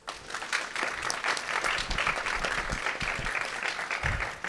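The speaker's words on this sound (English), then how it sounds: "Round of applause, everyone." An audience at a fireside chat with founding product designers breaks into sustained applause, a dense wash of clapping from many hands that carries on steadily throughout without speech.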